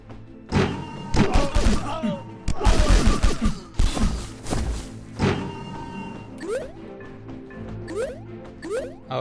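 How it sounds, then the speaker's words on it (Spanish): Video game gunfire, with heavy thudding shots and bursts that are loud and clustered early, then thinning into sparser impacts. Faint whistling and rising tones trail the later shots, and a voice talks in the background. "no te rayes, solo son disparos."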